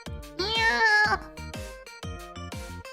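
A streamer imitates a cat with her voice, giving a rapid run of loud, close meows, one drawn out and wavering in the middle, and then more short meows in a steady rhythm.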